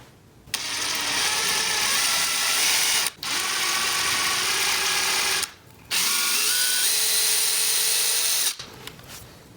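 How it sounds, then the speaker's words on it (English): Power drill boring a screw hole into a Telecaster guitar headstock, three sustained high-pitched whirring bursts separated by short pauses, close and loud with no talk. "And so now I'm going to drill."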